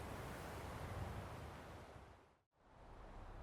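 Steady, wide wash of ocean surf breaking on a frozen shore in the video game Skyrim, a continuous roar that briefly dips to near silence before swelling back, with no voices.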